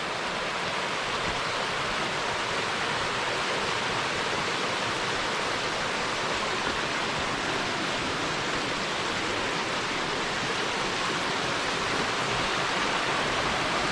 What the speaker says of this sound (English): we got waterfalls coming in there too